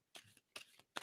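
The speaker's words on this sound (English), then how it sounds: "And tell me to stop shuffling." Playing cards riffle-shuffled in three quick separate bursts, crisp and close, with short pauses between them.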